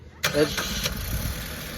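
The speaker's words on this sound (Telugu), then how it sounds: "ఒకసారి ఇంజన్ స్టార్ట్ అన్న" A Maruti Suzuki Ertiga 2025 CNG/petrol car engine cranks and catches abruptly after a brief quiet moment, then settles into a steady close idle hum with a faint rattle.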